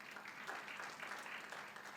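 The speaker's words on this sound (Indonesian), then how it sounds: "Tepuk tangan, panjang." Long applause from a church congregation during an Indonesian Sunday service, a steady wash of many hands clapping that holds evenly for the whole stretch, with no voices over it.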